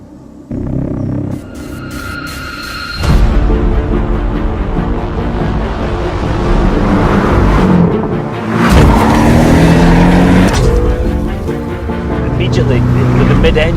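A Porsche 718 GTS mid-engine sports car driving in Sicily: a loud engine note that rises and revs, with a rumbling drone and surges of acceleration throughout, and no talk over it.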